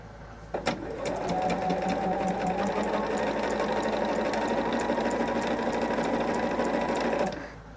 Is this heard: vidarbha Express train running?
no